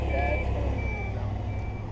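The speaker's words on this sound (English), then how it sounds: "That's an armored truck." An armored truck reverses, its backup alarm sounding repeated high beeps over a low engine rumble, with voices faintly under it.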